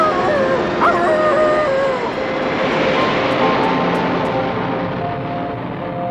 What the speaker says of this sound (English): No! Stop that plane!